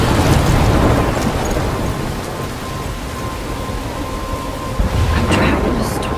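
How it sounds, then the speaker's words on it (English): Heavy rain and thunder in the video game Life is Strange near a lighthouse, a dense loud continuous wash of rainfall with rumbling swells and a sudden crack near the end. "I'm trapped in a storm?"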